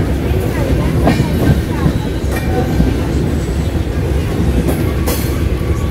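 Gandhidham–Visakhapatnam Express running, a loud continuous close rumble of wheels and carriages with faint rhythmic clatter throughout; a voice may be faintly present.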